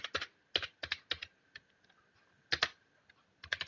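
Keys on a computer keyboard clatter in quick bursts of clicks as a search is typed, with short pauses between the groups, close and fairly quiet, and no talk.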